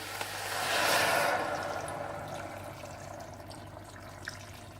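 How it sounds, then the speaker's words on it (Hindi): Water pours steadily into a cooking pot holding beef trotters, onion, garlic and tomato, a soft broad splash that swells in the first second or two and then settles into a quieter trickle. "और साथ ही आप इसमें पानी डाल दें।"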